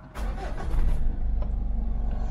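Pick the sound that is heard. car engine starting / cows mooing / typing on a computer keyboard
car engine starting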